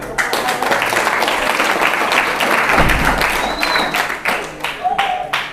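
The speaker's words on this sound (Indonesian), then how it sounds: "Mari kita berikan tepuk tangan dulu." An audience at a Ramadan tarawih gathering claps for a participant in a short religious talk session; dense, fairly close applause with crowd murmur and voices mixed in, thinning into scattered claps toward the end.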